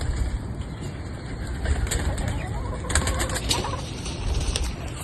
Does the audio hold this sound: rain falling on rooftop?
no